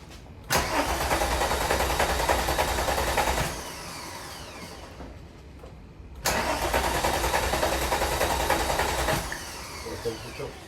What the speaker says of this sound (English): This was our first attempt at starting the car up after everything was assembled